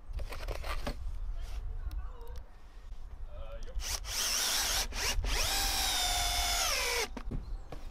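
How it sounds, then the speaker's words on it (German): A power drill drives screws through wooden pallets, with short whirring bursts and then a longer rising buzz of a screw sinking in. Scattered handling knocks and a voice come before it. "Hierfür verwende ich einfach Schrauben, die ich kreuz und quer durch die Paletten schraube."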